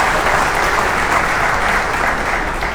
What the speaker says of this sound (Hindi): मैं चाहूँगा उनको तालियां बजाकर हम उनका स्वागत करें।